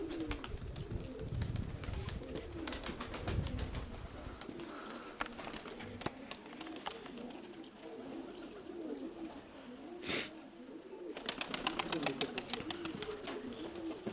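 Pigeons coo softly and continuously nearby, a low rolling murmur with occasional sharper clicks and rustles around it.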